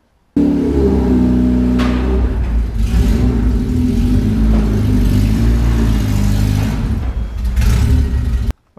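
A Honda Civic EG6 engine with a new cylinder head hums steadily close by, rising slightly as the car creeps forward onto ramps, with a continuous low rumble throughout.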